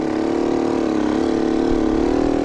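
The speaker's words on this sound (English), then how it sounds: "Trying to get this bike heated up." A motorbike engine runs low and lugs in snowy weather while it warms up, a close, steady, throbbing drone with no break.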